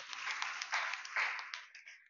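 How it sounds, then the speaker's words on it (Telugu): A congregation claps loudly during a Sunday church service in Guntur, a dense, steady patter of many hands that swells and fades over about two seconds, with no speech over it. "గట్టిగా చప్పట్లు కొట్టండి."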